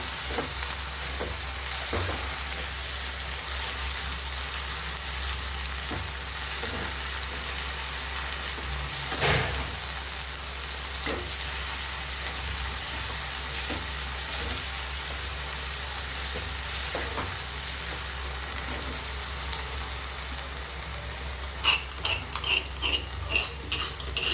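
Tomato, crushed ginger, garlic and green chili fry for biryani with a steady, even sizzle, broken by occasional light stirring clicks and a few sharper pops near the end.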